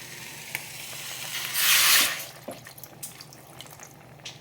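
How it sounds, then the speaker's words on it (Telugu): A glass of water splashes and sizzles briefly into a hot pot of dal with mango, a loud rushing burst lasting about half a second, followed by faint drips and clinks. "ఇప్పుడు వాటర్ వేస్తానండి"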